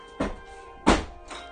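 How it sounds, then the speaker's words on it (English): A sticking interior door bangs twice, each hit a loud, dull thunk with a short tail, about half a second apart, followed by a fainter knock, in a quiet room with no talking. "Watch out for a loud bang because this door sticks."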